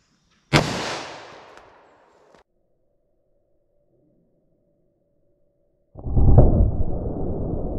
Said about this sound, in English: 357 mag through the medium density fiber board